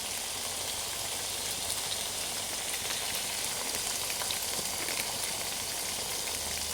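Masala with chicken masala powder and turmeric sautéing in a pan, a steady dense sizzle and crackle running evenly throughout, close and fairly loud with no talking.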